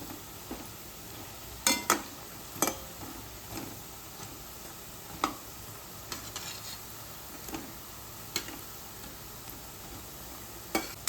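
Medu vada frying in oil over a medium gas flame: a faint, soft sizzle broken by sparse, sharp crackles and ticking pops.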